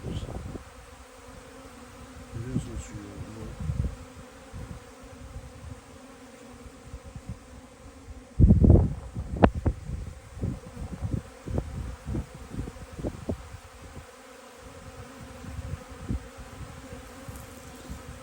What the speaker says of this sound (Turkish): Çünkü arılar bal aldıktan sonra kendilerini temizlemek için yere konuyor.